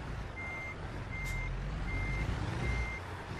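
Truck reversing alarm in American Truck Simulator, a steady series of four evenly spaced electronic beeps over a constant low engine drone.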